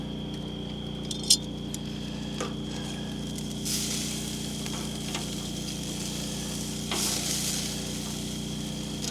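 Steaks sizzle over heat on an off-grid wilderness property: a continuous crackling hiss with a low steady hum beneath. Occasional light metallic clinks and small bursts of spatter come through, with no talking.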